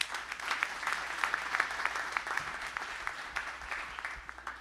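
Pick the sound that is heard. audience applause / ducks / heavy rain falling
audience applause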